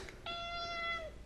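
A female house cat gives a single drawn-out meow, clear and fairly close, rising then sliding down at the end over a quiet indoor background with no talking.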